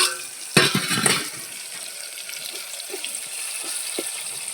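Tomatoes and okra fry in a hot pan with a steady, moderate sizzle, broken early by a louder burst of stirring and spattering.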